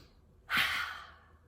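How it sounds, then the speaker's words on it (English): A single deep, audible breath drawn in and slowly released by a children's storyteller, close and breathy, rising suddenly after a quiet moment and fading gently out. "Take a nice big deep breath."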